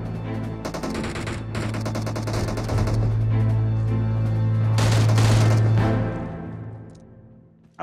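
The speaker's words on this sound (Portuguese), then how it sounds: "Esse cara dando tiro aí de AK." AK rifle fire in an online shooter game rattles in long, rapid automatic bursts, loud and close, with a steady engine-like hum beneath before tapering off at the end.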